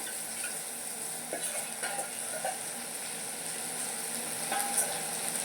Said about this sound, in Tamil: நம்ம எடுத்து வச்சுருந்தோம் மாங்காவை சேர்த்துட்டு லைட்டாக இந்த அளவுக்கு கிண்டி விட்டுக்குவோம்.